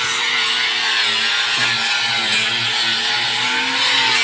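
An angle grinder working on plywood for a wooden boat hull repair runs steadily throughout, a loud continuous whining buzz with slight dips in pitch as the disc bears into the wood, and no voices.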